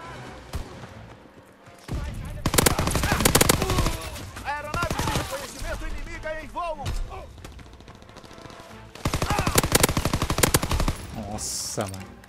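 Gunfire in Call of Duty: WWII on PS4, loud rapid bursts of automatic fire in several volleys with short pauses between, mixed with other game sounds and a voice talking at times.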